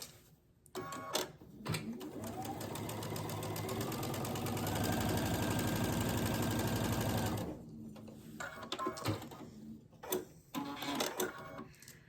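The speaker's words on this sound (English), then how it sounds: "I'm going to sew these 2 pieces together first" A sewing machine runs in one steady burst of about seven seconds, stitching two crazy-quilt fabric pieces together. Shorter start-and-stop whirs and handling clatter come before and after.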